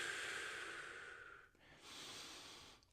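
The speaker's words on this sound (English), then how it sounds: "Big inhale through your nose. Slow exhale." Deep breathing after a workout: a close, breathy inhale through the nose followed by a slow exhale, two soft airy passages separated by a brief pause.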